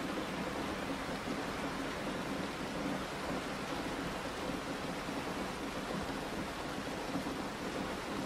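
Rain drums on the roof of a van at night, a dense, even hiss that holds steady and unbroken throughout, soft and close with no voices.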